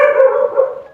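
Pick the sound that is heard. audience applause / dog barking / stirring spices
dog barking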